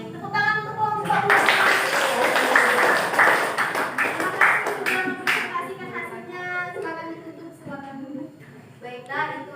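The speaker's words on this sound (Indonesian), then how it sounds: "Tepuk tangan untuk kelompok 2." A classroom group gets a round of applause: steady hand clapping from a crowd of children and teachers, close and fairly loud, under the overlapping chatter of voices.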